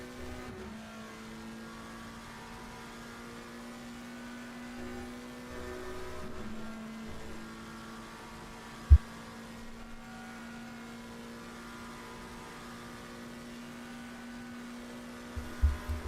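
A McLaren GT3 race car engine hums in a racing sim at Paul Ricard, a steady, fairly quiet drone that shifts pitch now and then, with one sharp knock midway and a few bumps near the end.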